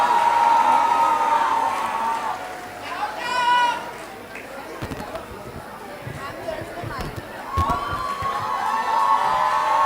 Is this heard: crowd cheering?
yes